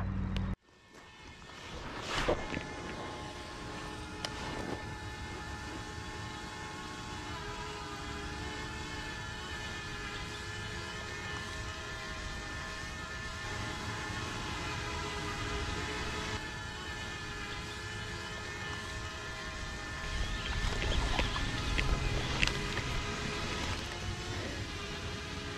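A small drone hovers overhead near a lake during bass fishing from a boat and bank, its steady whine holding throughout with stacked tonal lines, swelling slightly louder toward the end, with no talk.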